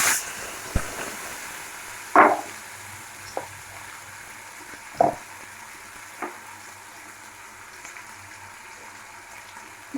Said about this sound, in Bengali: পেঁয়াজটা হালকা ভেজে নিয়েছি। দিয়ে দেবো আদা রসুনের পেস্টটা